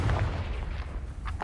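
A Confringo blasting spell in a Harry Potter video game hits with a short, deep, booming thump that fades quickly, followed by faint crackles.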